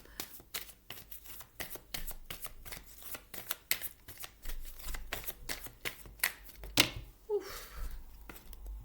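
Tarot cards being shuffled by hand in a quiet room, a rapid run of crisp riffling slaps and flutters in uneven bursts, close and fairly soft, with a brief pause and a single sharper snap near the end.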